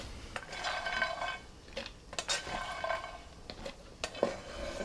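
Walnuts toast in a pan, heard up close as a light sizzle broken by bursts of stirring, scraping and clinking from a utensil against the pan.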